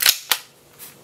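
A gas magazine being inserted into a Tokyo Marui Hi-Capa gas blowback airsoft pistol, heard as a sharp metallic click followed by a second clack, then a faint trailing rattle, close and loud.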